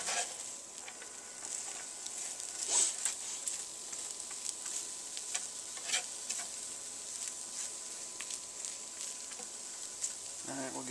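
Food sizzles steadily in a hot pan at close range, a continuous bright frying hiss with small pops and occasional stirring scrapes, no speech.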